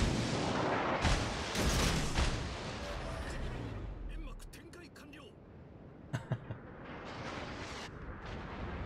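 Battleship guns firing in the World of Warships game: heavy booming salvos with deep rumbling echoes dominate the opening, then fade to a quieter stretch with a couple of sharp reports later, while someone talks over the game sound.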